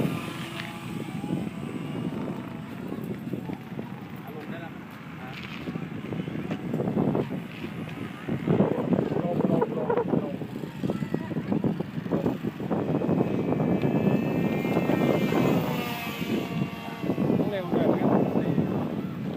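Engine drone of a Cessna 337 in flight, a steady propeller hum that rises partway through and carries on under frequent conversation.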